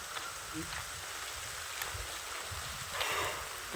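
Heavy rain pours steadily at a dam during a downpour, a dense continuous hiss with a brief swell near the end, no clear voices over it.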